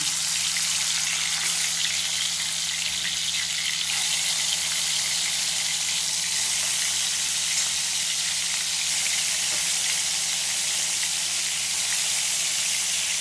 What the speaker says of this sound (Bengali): 15-20 মিনিট পর আমি এই মাছগুলো দিয়ে দিচ্ছি, ভেজে নেব